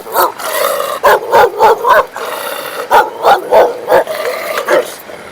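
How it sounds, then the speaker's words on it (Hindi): Village dogs in the mountains bark repeatedly and loudly nearby in quick rhythmic bursts, several overlapping yaps and barks. "गांव में लोग कुत्ते पाल के रखते हैं, बड़े खतरनाक कुत्ते होते हैं।"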